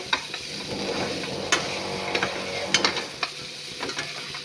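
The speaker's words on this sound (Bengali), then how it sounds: "ভাজাটা আমার আরেকটু হবে, তারপরে হয়ে যাবে।" Pumpkin, potato and bitter gourd fry in a pan, with a steady sizzle under repeated clattering scrapes of a spoon stirring against the metal, close and fairly loud.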